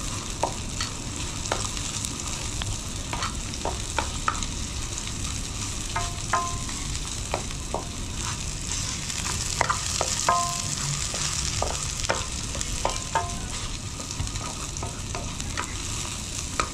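Ginger frying in a hot pan, a constant sizzle with repeated clicks and scrapes of a spatula stirring at an irregular pace, close and steady, no speech.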